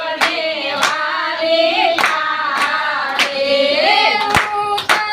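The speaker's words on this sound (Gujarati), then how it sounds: "તાળી મહાદેવને વાલી" Hands clap in rhythm through a Gujarati devotional bhajan to Mahadev: sharp, regular claps land about once every second under a loud sung melody.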